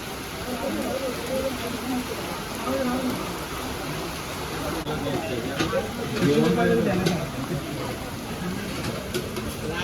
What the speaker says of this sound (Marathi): पाऊस एकदम जणजणीत पडता